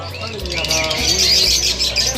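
A bird shop in Mardan, Khyber Pakhtunkhwa, that sells finches along with desi and fancy chickens, fills with a dense, continuous chorus of high chirps and tweets from many caged birds, loud and close, over a low steady hum.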